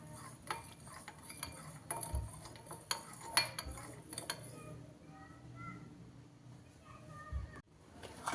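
A spoon scrapes and clinks against a bowl as sugar is mixed in for homemade donut dough, with irregular taps and stirring strokes, near and fairly quiet, with faint background voices.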